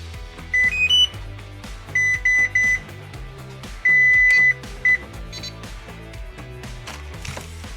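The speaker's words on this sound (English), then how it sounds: "Turn on the ESC and the transmitter." An RC car's ESC and transmitter power on with a series of short electronic beeps and tones, some rising in pitch and one held longer, against quiet background music without speech.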